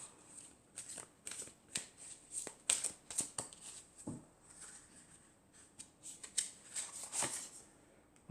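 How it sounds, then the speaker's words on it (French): Oracle cards from an angels-and-crystals deck are shuffled and one is drawn, giving soft papery riffles and flicks in quick irregular bursts, fairly quiet and close, with no talking. "je vais prendre aussi une carte de l'oracle des anges et des cristaux"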